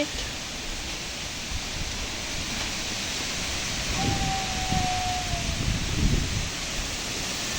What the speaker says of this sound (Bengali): দেখেন আজকে কি পরিমাণে বাতাস হচ্ছে